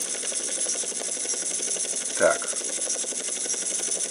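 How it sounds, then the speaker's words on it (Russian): A Cargobob helicopter in GTA San Andreas gives a steady, even rotor and engine drone throughout, with a brief spoken word from a player near the middle. "А, карго-боб, это на вертолет карго-боб."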